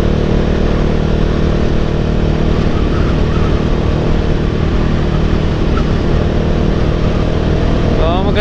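A Bajaj Dominar motorcycle engine drones loudly and steadily, heard up close from the rider's position on a night road trip near Tagaytay, with wind and road noise mixed in.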